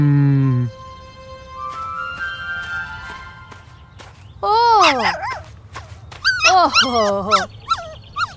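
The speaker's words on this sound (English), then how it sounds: "Perro is the Spanish word for dog." Dog barking and whimpering: first a steady high whine, then a quiet gap, then a burst of loud, sharp barks and yips close by, mixed with musical tones.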